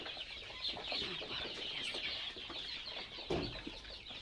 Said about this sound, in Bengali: আমার আরো বড় মুরগি আছে দেখেন।